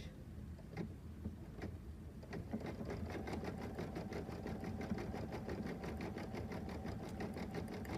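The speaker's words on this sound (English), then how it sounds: "we're going to stitch that down with a lovely little blanket stitch" An embroidery sewing machine stitches a blanket stitch in a fast, even mechanical whir. A few separate clicks come first, then the stitching runs on continuously at a fairly quiet level.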